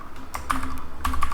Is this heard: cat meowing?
no